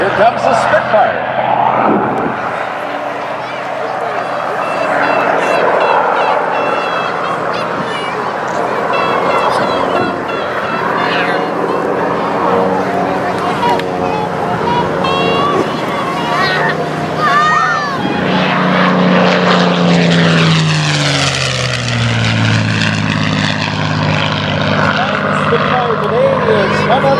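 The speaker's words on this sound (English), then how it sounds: "Comes the Spitfire." A Supermarine Spitfire propeller plane flies at Paine Field's aviation day air show, its engine droning throughout and rising into a sweeping pass near the end, while an announcer talks over it.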